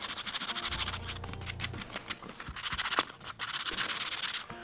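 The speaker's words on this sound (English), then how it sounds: "So back to sanding with 120 grit." Steady, rhythmic abrasive rubbing of 120-grit sandpaper on wood, close and continuous, with brief pauses in the strokes.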